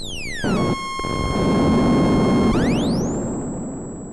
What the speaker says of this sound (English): Dive bombing.